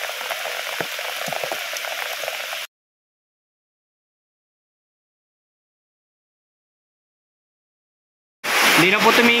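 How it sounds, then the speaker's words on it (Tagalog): Dense, loud rain pours with a hissing, crackling roar, cutting off abruptly into silence and then returning just as heavily. "Sobrang lakas ang ulan."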